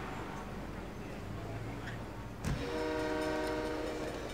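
Train at a railway station in SimCity 3000, a low rumble followed by a sudden loud horn blast that sustains as a layered tonal chord, fairly close and heard alone.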